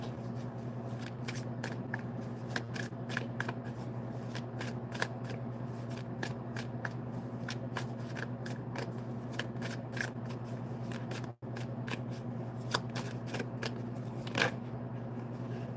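Tarot-style reading cards being shuffled in a steady stream of rapid riffling flicks over a constant low hum, with one brief dropout near the end.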